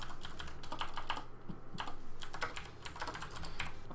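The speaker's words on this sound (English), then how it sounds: "Oops, I cannot type today." Rapid, steady typing on a computer keyboard, close and clear, with dense clusters of key clicks and a brief pause midway; no talking.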